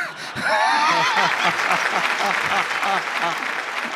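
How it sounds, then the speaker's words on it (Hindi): Applause from a comedy show audience, with clapping and some laughter and murmurs running under a voice that talks throughout. "ताली वाली बजाते रहो बीच बीच में हाँ।"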